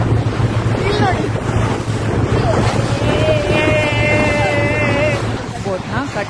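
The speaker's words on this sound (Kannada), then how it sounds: "ಬೋಟ್ನ ಕಟ್ಟಮರಾನ್ ಅಂತ ಕರೀತಾರೆ. ನಾವು ಹೋಗ್ತಿರೋದು ಈ ಬೋಟಲ್ಲಿ." A catamaran runs across the open sea off Mauritius's west coast, with steady wind buffeting the microphone and a continuous low engine hum under the rush of water, while people talk throughout.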